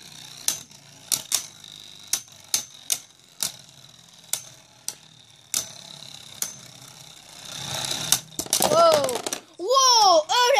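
Spinning tops clack together in a stadium battle: a steady string of sharp, evenly spaced ticks, then a denser rattling flurry. Near the end, a voice rises and falls, cheering.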